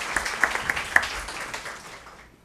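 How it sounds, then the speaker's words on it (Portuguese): An audience in a legal lecture hall applauds judge Luiz Felipe Haddad, with a brief burst of scattered clapping that thins out within about two seconds and fades to quiet. "eu gostaria muito de contar com uma salva de palmas de vocês"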